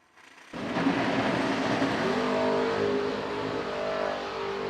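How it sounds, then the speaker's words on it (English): A drag racing car launches off the line into a wheel stand, its engine bursting in after a short quiet moment and holding a loud, sustained roar that eases slightly toward the end. "Huge wheel stand for Davis"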